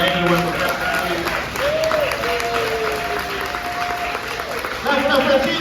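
Applause from an audience at an end-of-year ceremony, a steady broadband patter that keeps going under a host talking over it and swells again near the end.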